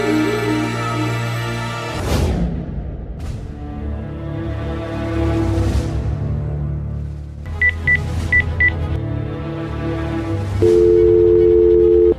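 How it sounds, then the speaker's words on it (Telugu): A faulty landline telephone gives sustained dial and busy tones, with a few short keypad dialing beeps in the middle and a steady, louder tone at the end, all close and clear. "ఈ ఫోన్ పనిచేస్తలేనట్టుందండి రిపేర్కి వచ్చినట్టుందండి"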